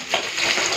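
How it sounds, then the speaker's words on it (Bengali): Fish sizzles as it fries in oil in a pan, a steady, close hiss of spitting fat with no talk over the brief burst. "মাছটা আর একটু ভাজা হবে, উল্টে দিলাম একটু।"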